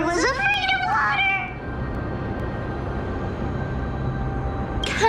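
Early on, a cat in a video game gives a couple of short, close meows over a low, steady ambient rumble. The game then settles into quiet background texture, and a brief sound returns at the very end.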